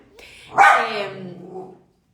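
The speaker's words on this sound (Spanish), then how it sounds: "mi perra está saludando a gente que está pasando por el pasillo" Female dog indoors barking at people passing in a hallway, one loud close bark trailing into a drawn-out whining yowl that fades out.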